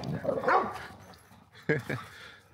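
A four-year-old dog playing, giving gruff barks and throaty growling sounds in two short bursts, close by, with people talking over and between them.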